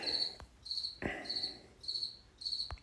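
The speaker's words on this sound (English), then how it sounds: "Damn, cricket is loud." Loud indoor cricket chirping in regular pulsed bursts, about five trills over three seconds, with a few sharp clicks in between and no voices.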